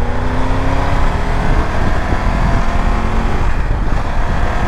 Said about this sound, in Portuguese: eu tô com uma Tiger 1200, nem acredito